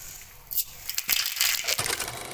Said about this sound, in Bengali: সর্ষে ফোড়ন,